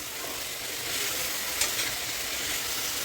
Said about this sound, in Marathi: आता भाजीला मी एकत्र चांगलं मिक्स करून घेते